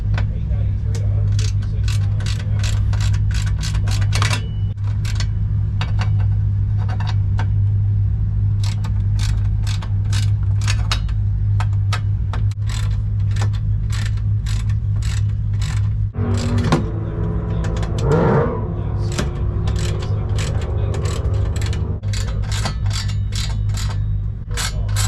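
Ratchet loosening 10mm bolts inside a Dodge Challenger dash, giving repeated runs of sharp clicks in bursts with pauses over a steady low hum, and a voice speaking partway through.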